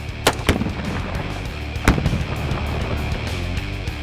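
Exploding rimfire targets set off by gunshots on an outdoor range: a few sharp cracking pops in quick succession near the start, one more loud bang partway through, over steady background noise.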